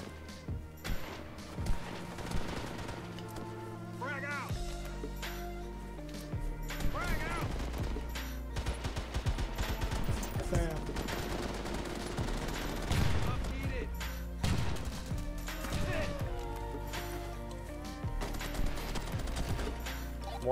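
Dense gunfire from the multiplayer shooter H-Hour in a ranked match, with continuous bursts and shots layered over music-like tones and radio chatter; people talk throughout.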